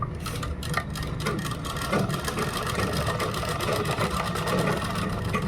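A sewing machine stitches a kurta sewn from a dupatta, running in a steady, continuous mechanical whir with a fine rapid pulse throughout, close and fairly loud, with no talking over it.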